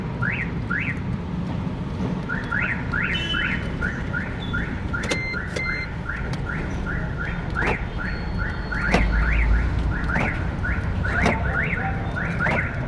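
A car alarm sounds during remote programming, giving a long series of quick rising electronic chirps in a steady repeating pattern over constant background noise.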